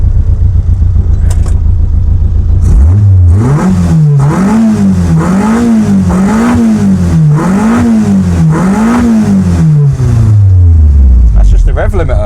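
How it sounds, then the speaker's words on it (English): A car engine is revved hard and bounces repeatedly off the rev limiter with a rhythmic stuttering rise and fall, loud and close, then winds down, apparently under load. "That's just the rev limiter."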